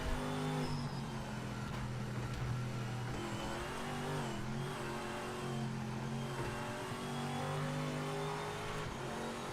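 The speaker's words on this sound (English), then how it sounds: "I just like when you blip the throttle on this, how it sounds" A race car engine in the Project Motor Racing video game hums steadily at mid pitch, with small throttle blips rising and falling over a continuous drone. No one speaks.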